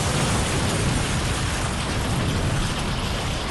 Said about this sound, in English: Gee, that was a big explosion.